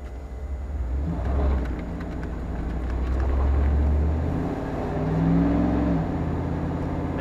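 A 1994 Dodge Dakota pickup with its 318 5.2-liter V8 is driven along, its steady low engine drone heard from inside the cab and swelling twice as the engine revs up.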